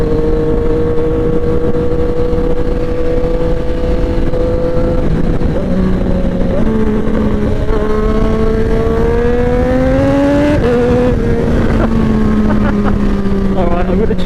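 A Triumph 765RS with an SC Project exhaust and quickshifter accelerates hard, its loud, close engine note climbing through quick gear shifts with brief dips between them, over constant wind roar.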